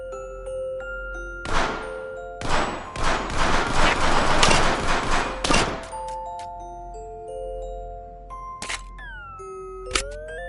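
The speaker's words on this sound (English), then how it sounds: "Keep shooting those targets." Gunshots from shooting targets in the VR game American Dream: a quick cluster of sharp, loud shots in bursts, then a couple of isolated cracks, with tonal game chimes and beeps around them.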